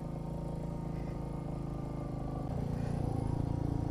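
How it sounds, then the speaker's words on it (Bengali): A motorcycle on a steep, sharply turning mountain road descends under engine braking, its low, even engine note swelling slightly louder toward the end. "এখানে ইঞ্জিন ব্রেক ছাড়া কোনো উপায় নেই"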